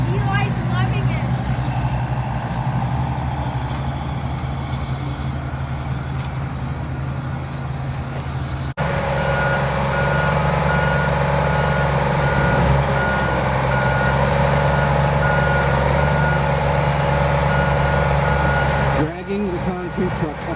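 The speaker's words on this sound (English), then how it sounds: "Dragging the concrete truck up the hill with the skidder." A concrete truck being dragged up a hill by a skidder gives a loud, steady truck engine drone with repeated reversing beeps, close by, while voices talk over it throughout.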